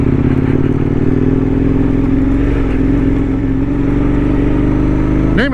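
A KTM 1090 Adventure R motorcycle labours through silty desert sand, its engine droning loud and steady up close, with a brief rising whine at the very end.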